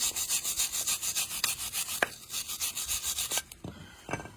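A wire brush scrubs the metal contact surfaces of a brake caliper in fast rhythmic strokes, a close harsh rasping that pauses briefly, then resumes in a looser burst.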